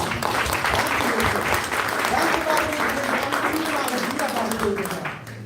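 A youth mission congregation claps loudly in church for several seconds, a thick wash of applause with voices underneath, easing off at the close.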